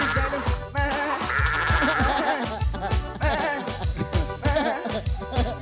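Goat bleats sound in a forró song, wavering cries repeating rhythmically over a steady musical beat.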